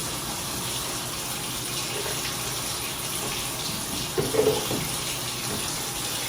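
Tap water runs into a glass of fresh lemon juice, a steady faint splashing pour with a brief louder gurgle near the end.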